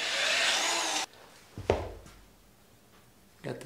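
An adjustable wood drill bit boring into a log for a rustic coffee cup holder base: a loud, close, whirring grind for about a second, then it stops, followed by a few knocks and handling clatters.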